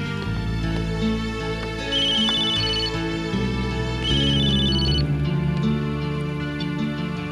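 A phone ringtone plays as a repeating electronic melody in two bursts, with a steady musical backing throughout and no talking.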